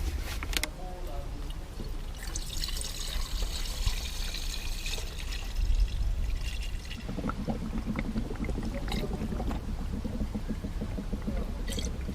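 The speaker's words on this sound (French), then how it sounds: "Alors la purge est en train de se faire." Coolant pours and trickles while a car's cooling circuit is bled after a thermostat replacement, a continuous close liquid flow with gurgles and some mechanical background noise.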